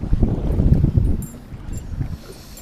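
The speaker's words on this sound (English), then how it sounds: "We're on the windy side." Strong wind rumbles and buffets the microphone in heavy low gusts while bass fishing on High Rock Lake, dropping slightly halfway through.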